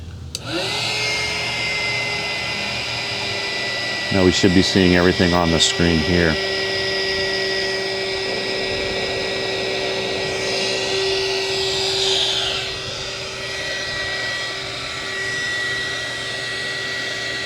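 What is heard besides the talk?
electric blower running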